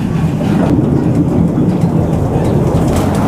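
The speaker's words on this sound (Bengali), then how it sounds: "শুরু হয়ে গেছে আমাদের বুলেট ট্রেন রাইড" A small amusement park bullet train ride at Dream Holiday Park in Narsingdi pulls off around a pond, giving a steady, loud, close rumble of wheels and carriages throughout.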